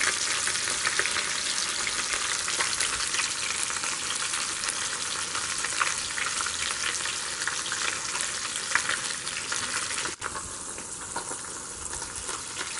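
Fish frying in a pan outdoors beside a river, a dense, steady crackling sizzle that runs loud and unbroken throughout, with no voices over it.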